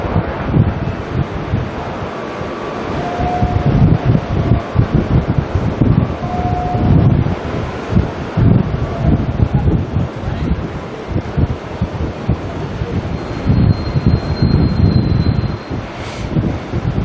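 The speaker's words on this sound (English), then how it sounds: "Oh, that's some beautiful sounding reverse thrust going on there." An airliner using reverse thrust as it lands at Auckland Airport, a loud, rushing jet roar that swells and surges across the span, mixed with gusty wind buffeting on the microphone and some talk.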